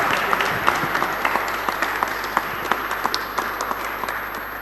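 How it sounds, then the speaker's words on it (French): A church congregation at a service installing a new pastor and his wife applauds steadily, a dense wash of many hands with crisp individual claps standing out, moderately loud and continuous throughout. "Donc on acclame. On acclame."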